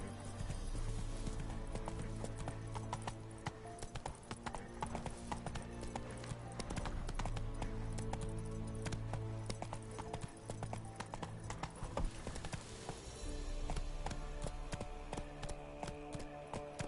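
Roach, Geralt's horse in The Witcher 3: Wild Hunt, galloping with a steady fast clip-clop of hooves against a constant game background, fairly faint, with a short spoken urging.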